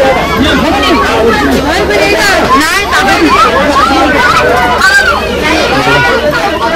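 Dense chatter of a big Dussehra festival crowd at Kalika Mata temple, Arnala fort, with many overlapping voices close by forming a continuous loud hubbub throughout.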